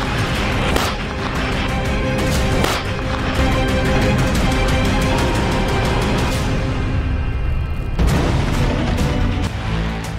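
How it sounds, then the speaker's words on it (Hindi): Loud, continuous barrage of heavy booms and bursts from missile strikes, dense and rumbling throughout with sharper blasts punctuating the roar and a brief dip before it surges again. "मिसाइलों के हमले के बीच बड़े बड़े धमाकों के साथ"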